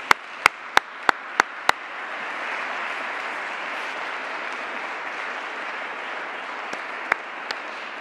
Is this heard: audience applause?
yes